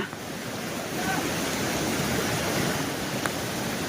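Monsoon floodwater on the Ghed Ojat river in Gujarat pours through a breached embankment, a steady broadband roar of rushing water that swells slightly after the first second and holds continuously with no talk.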